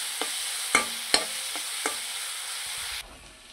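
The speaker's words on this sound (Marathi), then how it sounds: "थोडंसं चांगलं व्यवस्थित हलवून घेतलं तेल सुटेपर्यंत." Chopped ingredients stirred in hot oil in a pan for a potato curry, a soft sizzle broken by a few sharp spoon clinks and scrapes, ending in quieter hiss.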